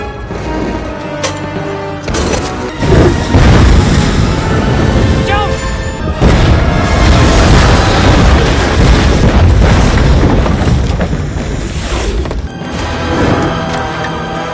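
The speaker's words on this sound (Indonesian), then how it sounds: "kebakaran yang terjadi membuat bangunan meledak" A loud, sustained roar of explosions and booming blasts with crackling bursts, dense and continuous throughout, like a structure blowing apart.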